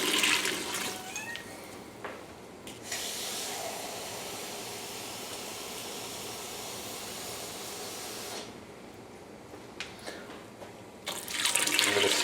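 Water runs and splashes from a tap into a measuring vessel as six cups are poured out for cooking with bouillon cubes, a steady moderate rush with brief pauses and shifts between pours, no talking.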